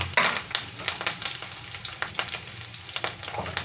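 Mustard seeds and pulses crackle and sizzle in hot oil for a tempering on a large stove, a dense close frying hiss broken by sharp popping bursts and the scrape of stirring, with no talk.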